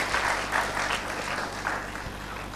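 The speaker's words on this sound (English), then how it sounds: "Can I have a big round of applause for her?" An audience at a business panel event applauds, a dense, steady burst of clapping from many hands that fills the room and tapers slightly toward the end.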